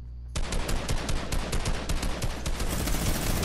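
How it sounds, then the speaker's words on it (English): A minigun fires in a video game in one sustained, rapid stream of shots, loud and dense from start to finish with no talk. "I'm gonna use minigun, bro"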